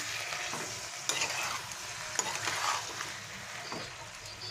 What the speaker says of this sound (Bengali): দিয়ে ভালো করে মিশিয়ে নিলাম।